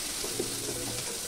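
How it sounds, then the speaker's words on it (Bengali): Chopped onions hit hot oil in a pan, already used for frying pointed gourd, giving a continuous broad hiss of sizzling that stays steady and fairly loud through the short moment. "পেঁয়াজ কুচিগুলো দিব ভাজার জন্য"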